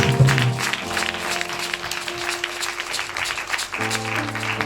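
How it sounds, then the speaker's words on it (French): A church congregation at a Sunday service applauds for God: sustained dense clapping from many hands, with a sustained musical tone and instruments playing underneath throughout. "Acclame fort pour Dieu."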